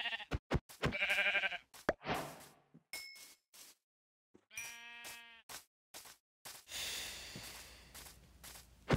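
Sheep bleating in the Minecraft video game, several short wavering bleats scattered among clicks, dings and game sound effects, with no talking.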